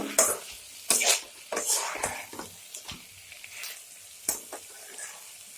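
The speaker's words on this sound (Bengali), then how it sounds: "ভেজে রাখা পটল আর আলুটা রেখে দিই একটু একসঙ্গে মিলিয়ে নেব" Fried pointed gourd and potato pieces stirred together in a pan with a spatula, giving scraping, clattering strokes at an uneven pace over a soft sizzle.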